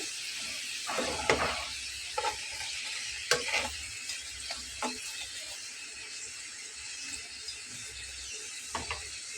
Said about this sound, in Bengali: আমি আরেকটু ভেজে নিচ্ছি, এমনিতেই মুচমুচে হয়ে গেছে বোঝা যাচ্ছে।